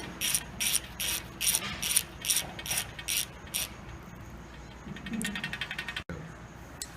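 Cable tension tool working on a Schiller S1, giving a rapid run of bright ratcheting clicks at first, then quieter handling noise and a few more clicks near the end, close and clear with no talking.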